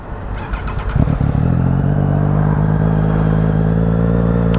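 A Triumph Daytona 675R motorcycle with an Arrow exhaust idles close by, a loud steady engine drone after a brief rising start, with no talk over it.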